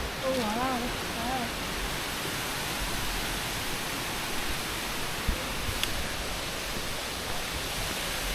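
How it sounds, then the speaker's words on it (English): Rushing water roars steadily in the jungle as a broad, continuous wash of sound that holds even for the whole stretch, with a few brief bird chirps near the start. "Ooh, I can hear lots of water."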